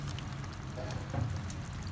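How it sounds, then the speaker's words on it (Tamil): Rinse water from a mixer jar is poured into mushroom kurma cooking in a pan, giving a soft, steady liquid pouring with faint background noise and no speech. "மிக்சி ஜாரில் கொஞ்சோண்டு தண்ணி சேர்த்து அலசி அதே இப்போ இதோடு சேர்த்துக்கிறேன்"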